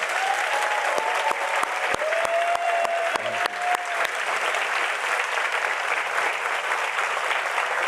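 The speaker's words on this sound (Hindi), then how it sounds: "प्रभु के लिए अच्छी ताली बजा सकते हैं हम।" A church congregation claps loudly and continuously for the Lord, a thick wash of applause with a few sharp nearby claps and brief voices calling out early on.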